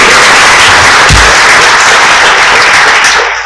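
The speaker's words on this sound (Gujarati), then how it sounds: "એને જોરદાર તાળીથી" Audience at a gathering giving loud applause to welcome a guest, a dense, close and continuous roar of clapping that stays strong throughout and cuts off sharply at the end.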